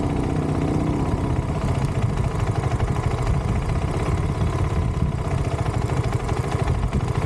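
A KTM 390 Adventure motorcycle with a damaged clutch runs continuously close by, a loud, rough engine drone with a rattling vibration and no break.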